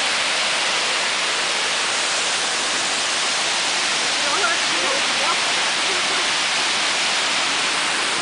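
A waterfall high up on a hiking trail roars as a steady, dense broadband rush for the whole stretch, loud and close, with faint voices surfacing briefly partway through.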